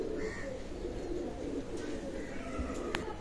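Oman-line Teddy pigeons in a loft keep up a low, continuous cooing, moderately close, with faint other bird calls in the background.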